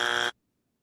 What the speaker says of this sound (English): Oh, we got buzzers now.